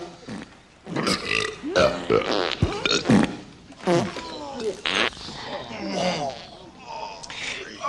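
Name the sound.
farting sounds from board executives in a movie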